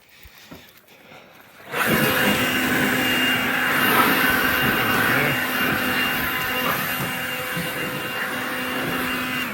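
A Ryobi 40V Whisper Series blower starts up loud after a quiet first couple of seconds, then roars steadily up close as it blows dead grass and leaves out of a snow blower.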